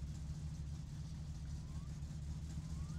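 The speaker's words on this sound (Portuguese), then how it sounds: "fiz o motor dar uma boa esquentada aí" A car engine idles steadily with the choke on while it warms up, a constant low rumble holding evenly and close by throughout, with no voices over it.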